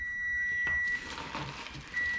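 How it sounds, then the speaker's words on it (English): A kitchen timer goes off with a steady, thin, high electronic tone that cuts out briefly and returns, moderately loud over faint background noise. "Timer's going off."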